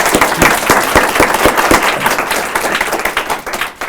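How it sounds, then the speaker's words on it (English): A seminar audience claps loudly for an award winner. Sharp nearby claps stand out over a steady applause that thins and fades toward the end. "We can go ahead and give her a round of applause."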